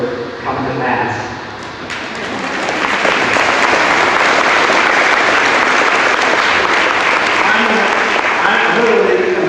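Loud, sustained applause from a large audience fills the space, clapping building after a moment and continuing strongly to the end.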